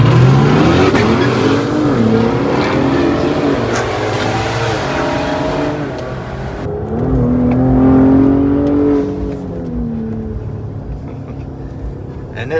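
A 2020 Ford Explorer ST revs hard and accelerates, its engine note climbing and falling through gear changes, loud and close throughout with a rising surge near the end.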